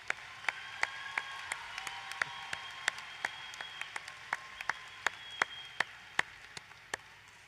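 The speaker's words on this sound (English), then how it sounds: "Let's give them all a round of applause." Scattered clapping rings out at a university graduation commencement, sharp individual claps spaced irregularly over a faint background murmur, fairly sparse rather than a full roaring ovation.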